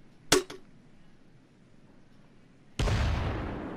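An M79 grenade launcher in Payday 2 gives a sharp double-crack report. A quiet pause follows, then a loud, sustained detonation roars and slowly fades.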